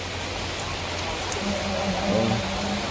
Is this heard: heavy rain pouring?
yes